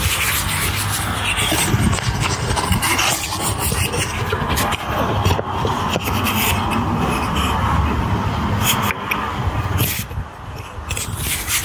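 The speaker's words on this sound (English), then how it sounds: "I'll just bring the block plane in I think, and just chamfer the edge of those beams off there" A block plane chamfers the edges of wooden beams for a bunk bed in a Transit van conversion, making continuous rasping, scraping strokes that run steadily and close up with no speech.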